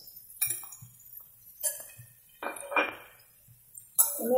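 A spoon stirs chunks of jackfruit and potato in a cooking pan, giving several sharp metallic clinks and scrapes spaced irregularly, with softer sizzling shuffles of the pieces between them, close and fairly quiet.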